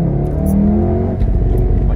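A tuned Golf 7R at Stage 1 accelerates hard with a loud, steady engine roar that rises in pitch, while brief crackling exhaust pops break through; heard close and continuous.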